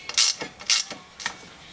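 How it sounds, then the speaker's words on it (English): A long-handled GearWrench ratchet tightens a 9/16 nut on a Honda Foreman ATV rear brake, three short clicking ratchet strokes close up and quiet. "this long handle on this gear wrench ratchet makes it much easier"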